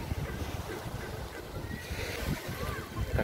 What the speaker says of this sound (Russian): Волна небольшая сегодня